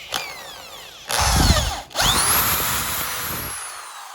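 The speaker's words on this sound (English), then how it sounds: "I was trying not to drill all the way through." A power drill bores a hole for a creeper seat modification, whining loudly in two close bursts separated by a brief pause, with rising and falling motor pitch and no talking.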